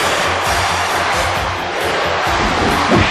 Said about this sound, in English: Chant going on from this capacity crowd